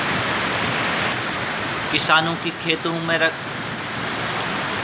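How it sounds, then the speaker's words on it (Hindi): Heavy rain pours steadily over flooded wheat fields, a dense constant hiss close around, while someone talks briefly in the middle; no distinct thunderclap stands out. "देखिए आप चारों ओर जलमग्न हो चुकी है धरती और बिजली कड़कती हुई और तेज़ बारिश के आसार"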